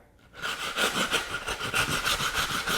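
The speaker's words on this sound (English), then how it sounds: "I use the back end of this rasp, which is curved, to do that." A curved rasp scratches repeatedly across the hackle area of a full strut turkey decoy form, a steady rhythmic series of close, dry rasping strokes after a brief quiet start.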